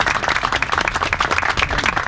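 Audience at a museum event giving a round of applause, a short burst of close, fairly loud clapping from a modest crowd.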